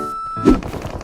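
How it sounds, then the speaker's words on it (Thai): One muffled gunshot thumps at a distance in PUBG Mobile, followed by a short low rumble amid quiet game ambience. "เมื่อกี้ข้างหน้ามีเสียงปืน"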